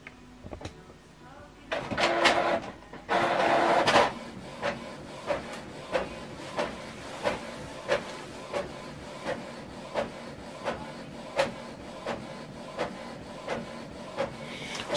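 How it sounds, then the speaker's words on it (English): A Canon TS7451 inkjet printer runs a page: a loud whirring burst of feed motors, then a steady series of regular clicking print-head passes about every second, with a voice speaking near the start. "Now it's asking us the ink is installed, click start printing."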